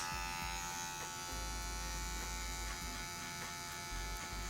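Electric hair clippers fitted with a 1.5 guard on the low setting buzz continuously and close by during a fade haircut, a faint, steady hum with slight shifts in tone as the blade moves through hair.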